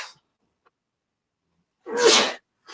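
A single sharp sneeze bursts out close by after a moment of near silence, with a faint breathy sound before it.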